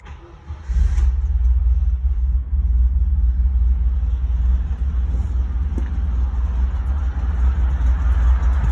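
A 1963 Volkswagen Combi T1 engine starts in neutral with no throttle, firing up after a brief crank and settling into a steady, loud, low rumbling idle that continues throughout.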